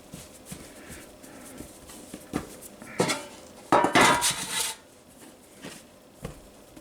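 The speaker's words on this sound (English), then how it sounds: "Got our bread pans, we got them sprayed" Metal bread pans for jalapeño cheddar sourdough clatter and scrape on a counter in a kitchen, a few light knocks building to a louder burst of clanking mid-clip, close by with no talk.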